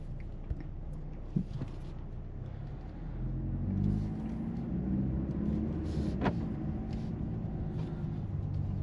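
A 2025 Mercedes GLC 300 4MATIC Coupe pulling away, a steady low engine rumble that swells slightly as it begins moving, heard from inside the cabin with a couple of soft clicks.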